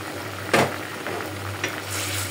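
Fried mung dal tipped into a pan where a rohu fish head is cooking, giving a soft sizzle with a sharp burst of frying noise and a few faint stirring scrapes.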